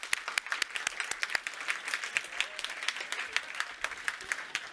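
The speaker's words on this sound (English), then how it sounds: "Warm applause to the panelists." Audience applause for youth summit panelists in Stockholm, a steady crackle of many hands clapping at moderate level with some sharper individual claps standing out, no talk over it.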